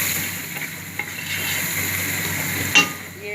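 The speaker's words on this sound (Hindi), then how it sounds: "अब इसके अंदर मैं ये हल्दी और ये मसाले ऐड कर दूंगी और इसकी भुनाई करेंगे" Turmeric and spices frying in a pan while being stirred, a steady broadband sizzle throughout with occasional utensil scrapes and a sharper clack near the end, no voices.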